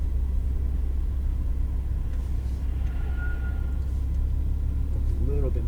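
A Lamborghini idles and rolls onto a race track, a loud, constant low engine rumble heard from inside the car, with a voice briefly rising near the end.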